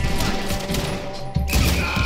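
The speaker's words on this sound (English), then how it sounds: "What are those guns?" Gunfire in Red Dead Redemption 2, heard as dense, loud overlapping shots and impacts over a busy game soundscape, with a sharp heavy blast about two-thirds of the way through.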